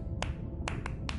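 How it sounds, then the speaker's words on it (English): Sperm whale coda clicks recorded in the Eastern Caribbean, sharp broadband clicks in a spaced rhythmic pattern over a constant low underwater rumble. "Sperm whales make clicks in sort of rhythmic patterns that we call codas."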